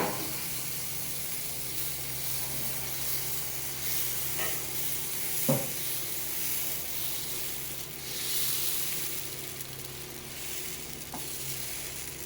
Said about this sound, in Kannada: ಈಗ ನಾನು ದೋಸೆ ಹಾಕ್ಕೊಳ್ತಾ ಇದ್ದೀನಿ.